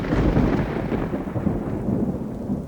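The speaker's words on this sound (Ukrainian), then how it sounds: "Дощить вже цілий день" Steady rain pours alongside deep rolling thunder, a broad loud rumble filling the whole stretch with no voices.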